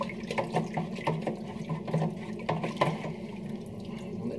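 An electric jug kettle nearing the boil, giving a faint, continuous bubbling and rumbling hiss with small popping ticks, steady and low in level throughout.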